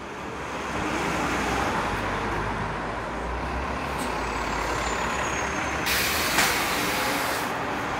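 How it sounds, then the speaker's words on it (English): Shuttle buses and other heavy vehicles passing in Toronto city traffic, a steady broad roadway roar with a brief air-brake hiss near the end, heard close from the sidewalk. "These shuttle buses look relatively busy."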